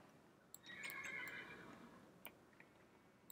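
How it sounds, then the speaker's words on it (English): A horse in the Minecraft Mo Creatures mod gives a single shrill, quavering whinny that rises and fades over about a second, followed by a couple of faint clicks in an otherwise quiet game scene. "Bad horse, get in."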